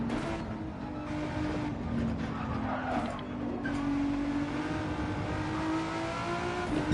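A Volkswagen GTI VGT racing at Deep Forest Raceway in a racing video game, its engine droning and revving steadily while the tires squeal through a tail slide, loud and continuous with no talk.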